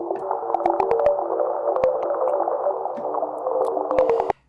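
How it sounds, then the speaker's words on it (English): A pluck soundscape made only with Serum's noise oscillator: a continuous shimmering mid-range pad dotted with many quick, sharp plucked clicks and chirps scattered irregularly, ending abruptly. "Pluck soundscape using just Serum's noise oscillator"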